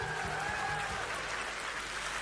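Audience applause at a live concert by a band, a dense, steady wash of clapping that holds evenly from start to end, with faint tonal music lingering underneath.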